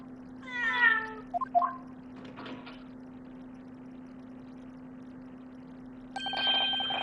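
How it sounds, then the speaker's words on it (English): A cat meows in the Great Ace Attorney video game, giving a few quick, bright cries near the start over a steady electronic hum. A short musical chime follows later, and no one speaks. "Look at cute little kitty."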